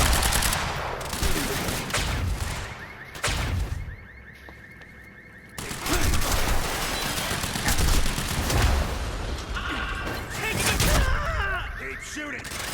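Rapid automatic gunfire rattles in the Quantum Break shooter game, dense sustained bursts with a brief lull midway, loud and close, with shouted voices and radio chatter mixed in.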